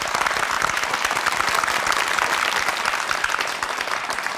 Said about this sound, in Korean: 수아틴 씨 가족의 행복을 바라는 우리 큰 박수 한번 보내드리죠